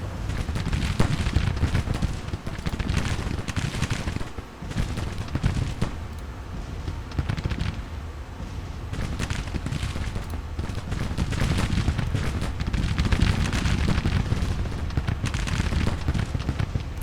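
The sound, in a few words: artillery fire in the video game Grand Tactician: The Civil War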